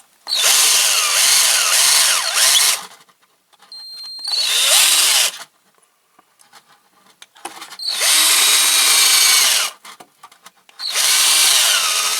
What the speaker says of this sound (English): just maybe drill a bit more for that.